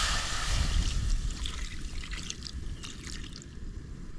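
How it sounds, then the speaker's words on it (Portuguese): A splash of water poured into a hot frying pan with food sets off a loud, hissing, bubbling sizzle that is strongest at first and then settles into a steady, busy crackle. "Um pouquinho de água pra não grudar na frigideira."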